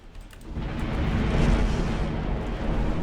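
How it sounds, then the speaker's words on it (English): Torpedo hit on a warship in the naval game Ultimate Admiral Dreadnoughts, a deep rumbling explosion that swells and sustains for a few seconds. "where the hell did that torpedo come from?"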